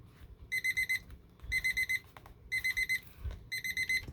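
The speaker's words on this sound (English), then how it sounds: "Uh-oh, we're about to beep, beep, beep." An alarm beeps in four evenly spaced bursts of rapid high-pitched tones, each burst lasting about half a second with short pauses between, heard clearly over quiet background rustling.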